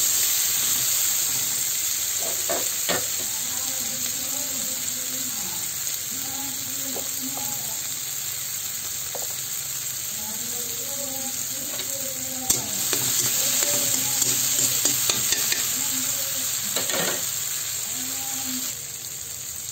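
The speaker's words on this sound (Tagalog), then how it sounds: "haluin lang natin ito hanggang sa magbango na ang ating sibuyas at bawang. Ilagay na din natin ang kamatis. Haluin lang natin yan." Onion, garlic and tomato sizzle in a hot pan while being stirred, a continuous frying hiss broken by repeated scraping strokes of a utensil, with a few clattering knocks near the middle.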